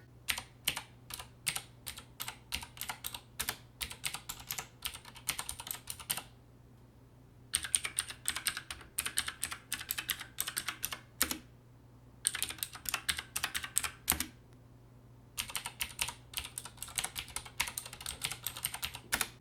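Typing on Cherry MX Blue mechanical keyboard switches, compared against the Thermaltake Poseidon Z RGB's similar switches: bursts of crisp, rapid clicky keystrokes separated by short pauses, close and loud with no voices.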